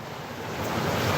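Continuous broadband rushing water from a river, rising slightly in level, with wind buffeting the microphone on a cold outdoor morning walk.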